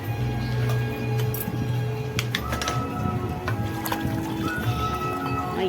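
Water is poured onto soaked rice in a cooking pot for mutton biryani, measured one part water to one part rice, with a steady close pour and occasional clinks of metal.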